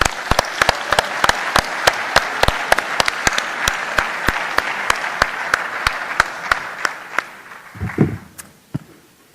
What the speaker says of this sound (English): Welcome, give him an applause.